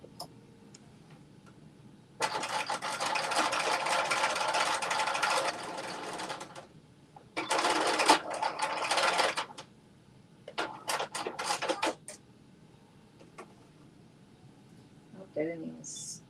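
A sewing machine stitching a Butterick jumpsuit runs in several bursts, one long steady whir followed by shorter runs of stitches, with a person talking in the quiet gaps between them.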